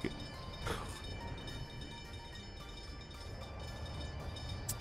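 A train runs through a Workers and Resources game world, giving a steady rolling rumble with faint rail clatter and a short brighter burst near the start. It carries on throughout without any speech.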